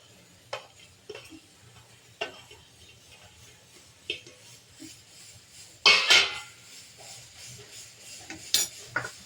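Chopped Totapuri mango pieces stirred in a pan for jam, with scattered scrapes and clinks of a spoon against the pan and one louder rattling stir, alone without talk.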